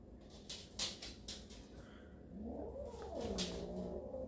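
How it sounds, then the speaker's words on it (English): A small kitten at a front door gives faint, drawn-out wavering meows over quiet background noise, the cries rising and bending in pitch toward the end. "This little kitten."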